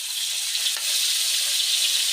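Shallots sizzling and frying in hot cooking oil, a steady, dense crackle that holds close and even throughout, with a faint stir partway through.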